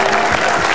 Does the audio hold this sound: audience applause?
yes